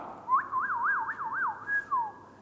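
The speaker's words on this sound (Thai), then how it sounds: "whistle แปลว่าอะไรครับคุณผู้ชมครับ ผิวปากนั่นเองครับ ถ้าเป็น verb เนี่ยนะครับก็คือผิวปาก" A clear whistled melody of wavering, rising and falling notes, close and fairly loud, over a low background hum, ending on a descending glide.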